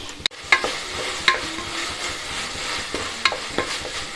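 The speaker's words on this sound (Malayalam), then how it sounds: "തക്കാളി നന്നായിട്ട് വെന്തുടയുന്ന വരെ നമുക്കിതുപോലെ ഇളക്കി കൊടുക്കണം" Chopped ripe tomatoes fry with onions in a pan for tomato rice, with a close spatula stirring and scraping in sharp strokes over a low, steady sizzle.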